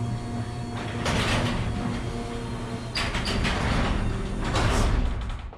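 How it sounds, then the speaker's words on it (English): A garage door closing in a home garage beside a 2014 Lexus LS 460, a long rumbling roll with rattling surges and a final settling, loud and close, no talking. "I'm going to close my garage door."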